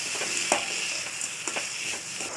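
Boiled elephant yam and grated coconut fry in a pan with a steady, continuous sizzle, punctuated by a few soft stirring scrapes.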